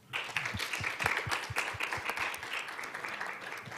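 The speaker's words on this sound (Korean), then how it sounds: "다시 한번 5분의 청년 발표자들에게 큰 박수 부탁드리겠습니다." Steady applause from a crowd at a youth peace forum session, dense clapping that swells quickly and holds for several seconds without talk.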